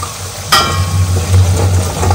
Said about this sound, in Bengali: তো সব মশলা ভালো করে ভাজতে হবে।